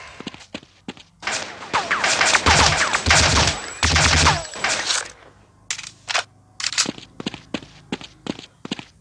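Rapid gunshots in the mobile shooter Counter Terrorist Attack Gun Strike: a dense burst of automatic fire, then scattered single sharp cracks spaced out in an irregular rhythm, close and crisp.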